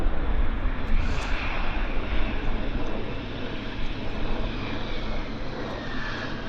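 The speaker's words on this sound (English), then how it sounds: "We just had a CRJ land" CRJ regional jet landing at Vancouver Airport, a broad roaring engine wash heard from a distance, loudest at the start and slowly fading, with no talk.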